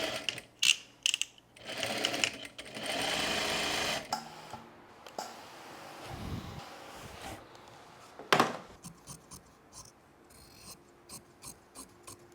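A sewing machine stitches the seams of gingham pants in loud, sustained runs broken by pauses, with rubbing and handling of fabric between bursts.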